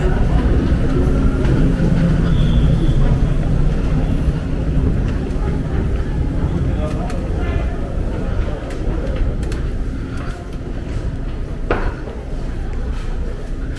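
A Toronto subway train produces a loud, steady rumbling roar that runs unbroken throughout, with faint rail clatter and squeaks mixed into the dense noise.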